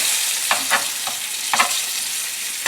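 Chicken breasts fry in olive oil in a pan over medium-high heat for chicken marsala, a steady close sizzle broken by a few brief stirring or turning scrapes.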